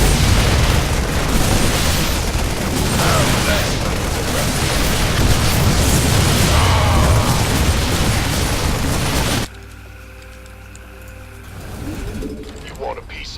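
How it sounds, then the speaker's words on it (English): Cannons fire in StarCraft 2 amid a dense, roaring wall of battle noise with heavy booms and mechanical clatter, which cuts abruptly to quieter game sounds and talk near the end. "And to stay out of the range of those damn cannons."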